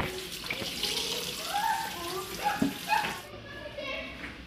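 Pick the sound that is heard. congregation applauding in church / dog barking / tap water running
tap water running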